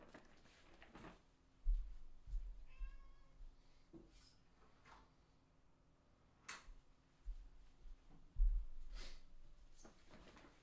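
A house cat meows faintly once or twice in a quiet room, with a few scattered clicks and knocks around it and no speech.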